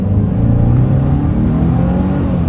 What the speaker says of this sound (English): Let's give the acceleration here a chance with the WRX having full control, and let's see how quickly this thing feels getting up to 60 in 5 seconds flat